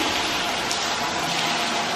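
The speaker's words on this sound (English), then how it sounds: "Let's catch some rain." Steady rain hisses down onto a patio in a dense, even wash of drops, close and continuous, at a hotel in Playa del Inglés, Gran Canaria.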